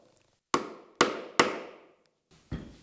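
A chisel is struck three times in quick succession to chop waste wood from a dovetail joint, each sharp, close blow ringing out, followed by a softer fourth tap after a pause.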